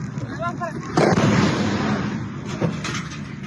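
Two heavy missile explosion booms about a second and a half apart, the first louder, rumbling over faint background voices, during a bombardment in Caracas, Venezuela.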